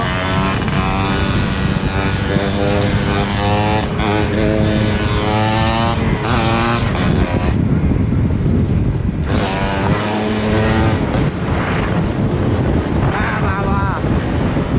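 A Suzuki motorcycle engine drones loudly under heavy wind buffeting, revving up and down with jolting bumps as it rides a rough road, a voice occasionally talking over it.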